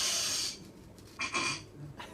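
Someone takes two loud, close sniffs of a 1994 Loctite glue from Dusseldorf during a comedy stand-up bit, one drawn-out sniff followed by a short one after a pause.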